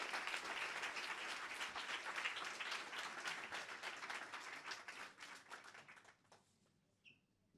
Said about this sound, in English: If everyone could give a very big round of applause, that was absolutely excellent.